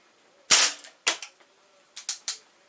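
A Crosman 2240 CO2 air pistol fires several shots, one sharp loud crack followed by four more sharp cracks in an uneven sequence, close and alone with no talking.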